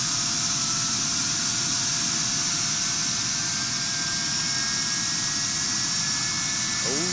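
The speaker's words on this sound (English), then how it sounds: "There it is. Starting engine 2." An Airbus A330 jet engine spools up in the X-Plane 11 flight simulator, a steady whining hum with rising tonal lines under continuous broadband noise from the cockpit.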